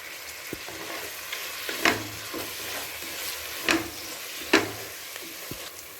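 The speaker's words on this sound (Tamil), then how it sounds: "நம்ம இந்த புதினா, கொத்தமல்லி இதையும் சேர்த்து நல்லா வதக்கணும்" Mint and coriander sizzle in a hot pan for Ambur-style chicken biryani, a steady close frying hiss punctuated by a few sharper scrapes of stirring.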